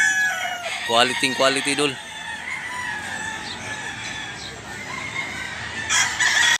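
A rooster crows loudly at a gamecock sale, followed by clucking and other fowl calling nearby, with someone briefly speaking near the end.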